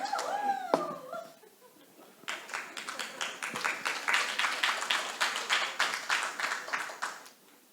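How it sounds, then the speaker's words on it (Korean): Church congregation applauding during a Sunday service, a steady wash of many hands clapping that rises after a brief voice at the start and carries on for several seconds at moderate volume. "박수 부탁드립니다"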